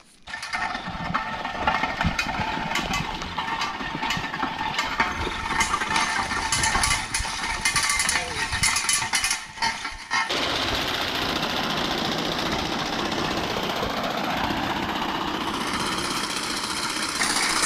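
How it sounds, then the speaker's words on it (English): A mower cuts along roadsides in spring, a steady loud mechanical engine drone and clatter that continues throughout, changing character partway as the machine moves on. "So it's time to mow the roadsides."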